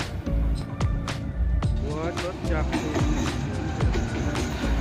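An Alsthom AD24C diesel-electric locomotive, nearly fifty years old, rumbles past close by, its engine droning steadily while wheels clack rhythmically over the rail joints.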